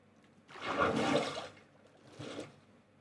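Flowing water in Minecraft gives a rushing whoosh that swells and fades, then a softer second surge, close and with no talk.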